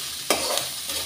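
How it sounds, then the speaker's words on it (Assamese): Fish and onions frying in a pan, a sudden loud sizzle bursting in as they hit the hot oil and then hissing steadily, with faint stirring. "এতিয়া খুব ধুনীয়াকৈ মাছখিনি পিঁয়াজখিনি ভাজিব লাগিব"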